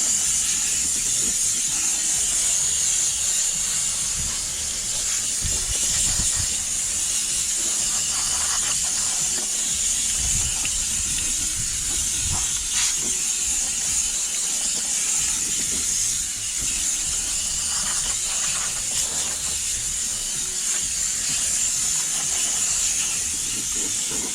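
A handheld steamer hisses steadily while steaming a car interior during mobile detailing, a continuous loud bright hiss with faint mechanical clicks and rattles underneath, running the whole time without talk.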